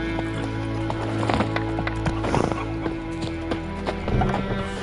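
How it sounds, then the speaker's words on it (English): The horse Roach in The Witcher 3 trots with steady, close clip-clop hoofbeats and a whinny, over a low game soundscape. "Whoa there, Roach."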